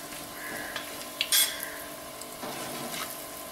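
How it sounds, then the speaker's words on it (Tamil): Spices frying in hot oil in a pan for a tamarind curry, a steady close sizzle with a brief metallic clink of a spoon against the pan partway through. "கொஞ்சம் பொரியட்டும்."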